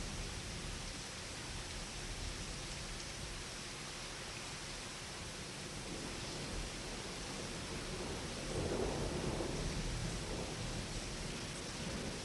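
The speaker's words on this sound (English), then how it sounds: "to listen to the thunder and rain, is it? Just let it crash and pour" Steady, soft rain pours continuously while a low rumble of thunder swells near the end, distant and muted, with no voices.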